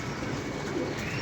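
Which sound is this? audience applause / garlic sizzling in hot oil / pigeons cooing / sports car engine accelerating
pigeons cooing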